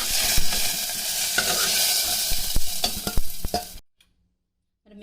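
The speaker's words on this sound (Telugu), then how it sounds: "వాటర్ ఇంకే వరకు వేయించుదాం పుదీనాను" Fresh mint leaves fry in hot oil while the water cooks off, giving a bright, crackling sizzle with sharp pops and stirring scrapes before it cuts to near silence.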